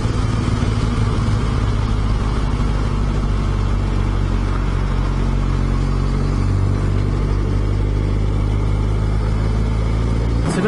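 Motorcycle riding along a road in the Yorkshire Dales on a touring trip, a steady loud engine drone with continuous road and wind noise throughout, close and unbroken.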